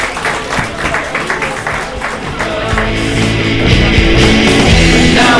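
A crowd at a limerick competition final in an arts centre applauds, with steady clapping that swells and grows louder and fuller toward the end.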